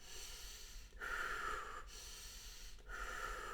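Heavy, deliberate breathing during an isometric exercise hold, with three long, strained exhales pushed out in a steady rhythm, close to the mic and heard alone.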